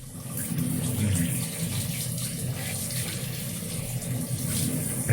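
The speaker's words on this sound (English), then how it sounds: "And make sure it's drain the water out. Okay, drain the water." Water pours and drains steadily from boiled beef brisket in a kitchen, a continuous close rushing splash with no talk.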